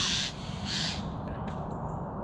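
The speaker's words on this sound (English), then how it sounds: "Magpies having an argument. Why is it wherever I go the birds make such a noise?" Magpies squabble near a small pond during a cool morning of fishing, with two harsh chattering bursts close together followed by fainter calls over quiet outdoor ambience.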